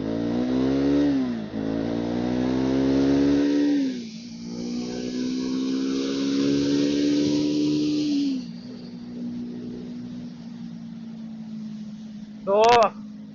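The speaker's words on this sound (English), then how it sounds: "So let's see the power of the bike." Triumph Scrambler 400 X motorcycle accelerating on an open road, its engine climbing in pitch through several gear changes, loud and close, with wind noise and a short sharp squeal near the end.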